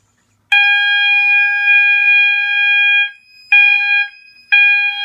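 System Sensor i3 smoke detector alarm under test, a loud piercing electronic tone held for about two and a half seconds, then shorter repeated blasts with brief gaps.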